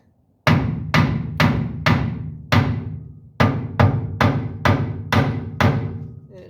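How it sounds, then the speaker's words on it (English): Metal hammer blows on the brake drum of a 1966 Ford F-250 truck during brake teardown: about a dozen loud, ringing strikes in a steady rhythm, each followed by a short decay, close by with no talking. "Make sure you grab yourself a little hammer."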